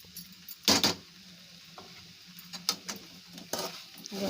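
Grated coconut being added and stirred into frying beans for a Malvani-style bean bhaji, with a soft sizzle and several sharp scraping clinks of a spoon against the pan.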